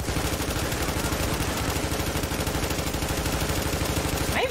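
Sustained automatic gunfire from The Division video game, a dense, continuous rattle of rapid shots that stays loud and steady throughout without a break.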